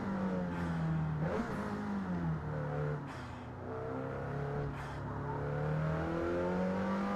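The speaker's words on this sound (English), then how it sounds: "I can really hear the engine behind my head" A race car engine in the video game Gran Turismo 7 drones and revs, pitch rising and falling through gear shifts, steady and fairly close with no talking.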